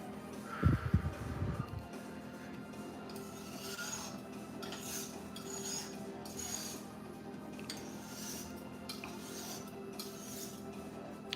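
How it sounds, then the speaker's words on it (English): Homemade paint is scraped together with a tool on a hard surface, a few rough close scrapes at first, then repeated faint, soft rasping strokes against a quiet background. "I'm gonna scrape it in a little bit now that I cleaned it."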